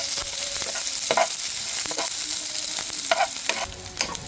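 Onions sizzle steadily in a frying pan as ginisang sayote is cooked, with repeated scraping strokes of a stirring spoon over the constant hiss. No one speaks.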